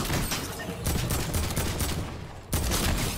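Rapid gunfire from a video game shooter crackles in dense, loud bursts, with a brief pause near the end before another burst starts.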